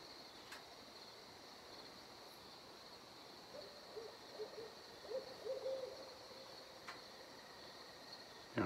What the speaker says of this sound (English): there's legit two owls that are attacking each other.